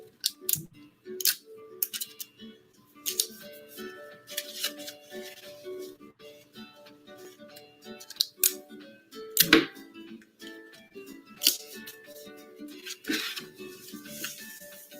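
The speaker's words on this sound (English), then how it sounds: "go ahead and use some tape to attach these" Party streamers are taped onto a kid's kite, with sharp crinkling of paper and plastic, tape tearing and scattered clicks and snaps close up in an uneven stop-start rhythm, no voices.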